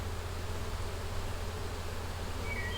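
Honey bees working in a nuc hive during a 2021 installation, a close, steady droning buzz with a low hum underneath, continuous and even throughout, no talk.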